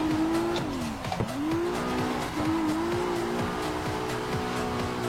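Race car in a racing game powering through a long bend, its engine droning loud and close, the pitch dipping and climbing again with gear changes and throttle shifts, tire noise layered underneath, no talk.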